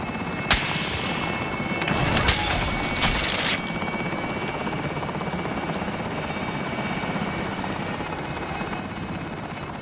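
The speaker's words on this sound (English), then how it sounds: "Cargo secure. Helicopter exit." Helicopter in the video game Call of Duty: Modern Warfare: a steady, loud rotor drone that runs the whole time, with a few sharp bangs near the start.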